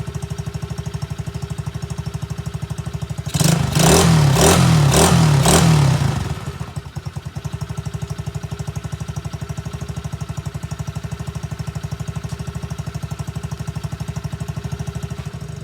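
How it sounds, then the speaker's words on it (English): X-pro Bolt 110cc motorcycle engine idling close by with a steady fast chugging putter, briefly revved into a louder clattering burst for a few seconds before settling back to idle. "Sounds like it got a strong motor on it."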